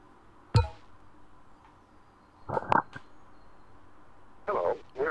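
A short electronic phone dialing sequence in the video game Shipwrecked 64, with a sharp click followed by brief tonal beeps and a burst of buzzy ringing, moderately loud against a quiet background.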